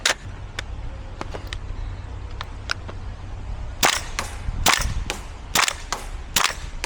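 An airsoft gun fires BBs in sharp snapping shots, a few scattered at first, then a quicker cluster of loud pops close by.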